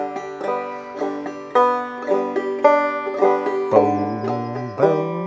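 Clawhammer banjo picking an ascending exercise across strings 4, 3, 2 and 1, with bright plucked notes ringing in a steady rhythm, played close and clear with no voice.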